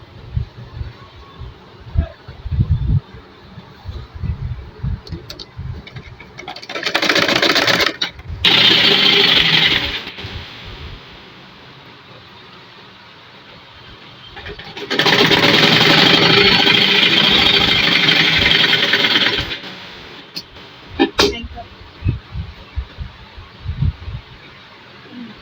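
A sewing machine stitches the hems of a pair of elastic-waist pants in two loud, steady runs of a few seconds each, separated by quieter handling noises and faint movement.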